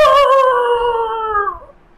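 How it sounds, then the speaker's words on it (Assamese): A dog howl sound effect played on a keyboard, one loud, clear, drawn-out howl that slides slowly downward and fades away after about a second and a half. "কুকুৰটো সেই চাউণ্ডটো এফেক্টটো কীবোৰ্ডত উলিয়াই থোৱা"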